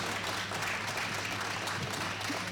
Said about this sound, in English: let's give these exhibitors a big round of applause.